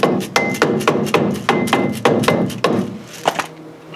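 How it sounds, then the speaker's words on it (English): A rubber camping hammer strikes a Morris Minor rear brake part again and again, about a dozen close, sharp knocks in a quick, uneven rhythm with no one talking. "Rubber camping hammer."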